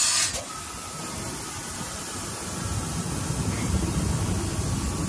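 Compressed air hissing steadily through a nozzle as it refills a truck's air suspension, a broad continuous hiss that stays close and even throughout with no talk.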